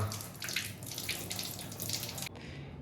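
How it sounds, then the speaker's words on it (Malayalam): Food is rinsed under a running tap, a steady rushing stream of water splashing in a sink, close and even, that cuts off abruptly near the end. "അപ്പോൾ ആദ്യം നമുക്കതൊന്ന് വാഷ് ചെയ്യാട്ടാ"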